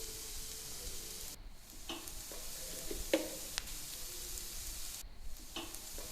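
Sliced onions stirred with salt, chilli and pepper powders in a pan, quiet frying hiss with occasional spoon scrapes and taps, fairly faint overall.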